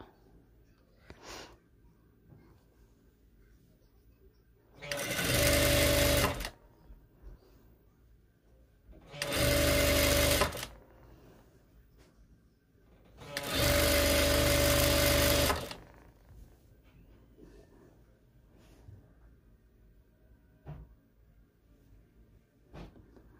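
A sewing machine stitches a seam on a one-piece prayer abaya in three separate bursts, each running one to two seconds, with quiet pauses in between.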